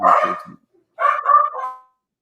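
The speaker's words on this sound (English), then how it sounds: "And we just got a dog bark for him" A dog barks indoors, two close, loud bursts separated by a short silence, with no talk over them.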